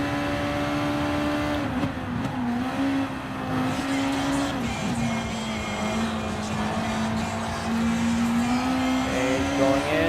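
A Super GT race car in Gran Turismo Sport threads a chicane, its engine droning loudly and steadily with pitch dipping and rising through braking and acceleration, with tire and track noise underneath.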